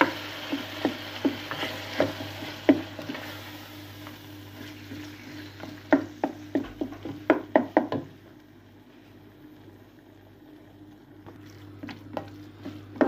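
Minced meat stirred and fried in oil, for fried kibbeh: a low sizzle under repeated sharp knocks and scrapes of a utensil against the pan, clustered in bursts, then a quieter stretch of frying before the knocking resumes.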